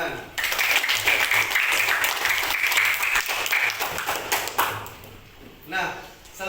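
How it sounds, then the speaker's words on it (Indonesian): Applause from a group after a sixth-grade science lesson on the planets, dense sustained clapping with a few sharper pings, fading near the end. "luar biasa, tepuk tangan."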